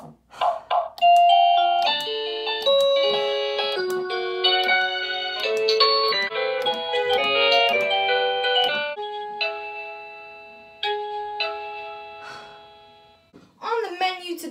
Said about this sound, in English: I've just accidentally pressed on my doorbell button